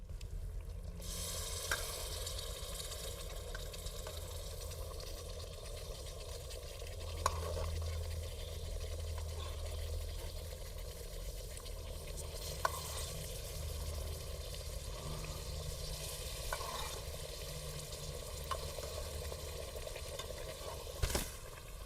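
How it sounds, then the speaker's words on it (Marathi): Mutton pieces frying and being stirred into black masala over a wood-fired chulha, a steady sizzle with scraping stir strokes and a few sharp clinks, close and continuous with no talking. "मटणाचे पीस आता आपण मसाल्यामध्ये ॲड करणार आहे"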